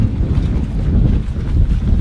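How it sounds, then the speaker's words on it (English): Strong wind buffets an outdoor microphone for about two seconds, a loud, steady low rumble with gusty surges and no voices. "So Adrian, it's very windy here."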